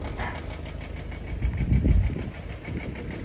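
A Honda NSX engine runs steadily in a garage, with a rough, knocking mechanical note consistent with a failed oil pump; the idle swells briefly midway, then settles back, with no talk over it.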